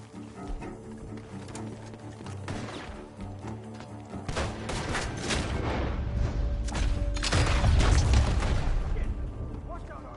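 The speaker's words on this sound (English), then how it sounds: "The gunshots are coming from that barn." Gunfire and booming blasts come from a barn in the video game Red Dead Redemption 2, rising in loudness toward the end beneath a steady musical bed, with speech present.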